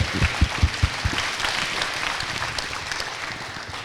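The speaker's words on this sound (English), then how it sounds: "give us a round of applause" A live podcast audience for a Bristol Flyers season-finale episode applauds, with a few distinct close claps at first, then a steady wash of clapping from the crowd.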